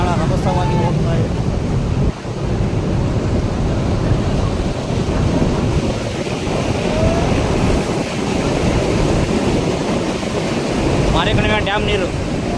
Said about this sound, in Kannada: ಮಾರಿಕಣಿವೆ ಡ್ಯಾಮ್ ನೋಡಿ ತುಂಬಿ ಹರಿದು ಹೋಗ್ತಾ ಇದೆ ನೀರು.